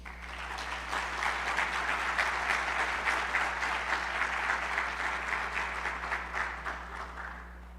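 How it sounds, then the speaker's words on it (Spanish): Sustained applause from a conference audience for a speaker, a dense steady patter of many hands clapping for several seconds before easing off slightly at the end. "les pido un fuerte aplauso"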